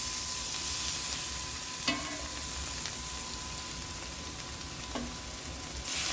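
Meatball pan being deglazed with sherry and beef stock in a gravy, a steady broad sizzle with a couple of brief stirring clinks, and the hiss swelling louder near the end.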